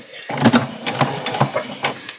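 A sewing machine stitching an apron runs in short, quick mechanical bursts of needle chatter, close and moderately loud, with a brief pause between runs.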